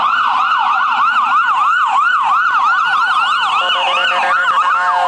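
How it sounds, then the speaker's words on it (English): An ambulance siren wails loud and close in a rapid, repeating rise-and-fall cycle, continuous for several seconds with no voices over it. "where the sound of sirens is a lifeline of hope"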